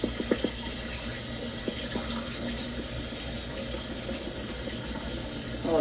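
Rinse water pours out of a pot of white rice, a continuous splashing, running-water sound with a few small knocks near the start, steady and moderately loud throughout.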